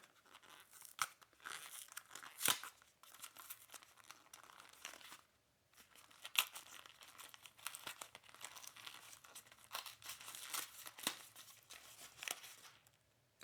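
Cardboard flap of a chocolate box being torn and crinkled open, with steady close rustling and crunching and a few sharper rips scattered through, fairly quiet and with no talk.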